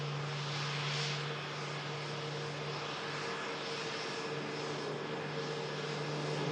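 An Airbus A350 taxis across the active arrival runway 23 right, a steady, fairly distant jet engine whine and roar that holds evenly throughout with no voices.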